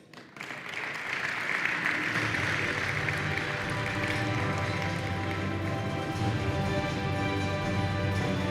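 An event audience applauds Nagi Motors at a live conference session, a dense, sustained clapping from a large crowd that swells in within the first second and holds steady to the end.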